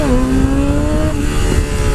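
A motorcycle fitted with a Yoshimura exhaust revs hard, its high-pitched engine note climbing and holding loud and close throughout, with no talking.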